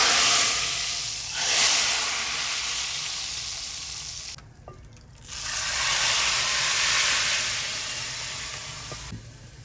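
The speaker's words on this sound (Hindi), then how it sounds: "तो अभी इसको हम डालेंगे दाल में।" Hot tempering oil and spices poured into cooked dal for a Pakistani mixed dal tadka, a loud sizzling hiss that swells, drops to near silence briefly, then surges again and slowly fades, close up with no talking.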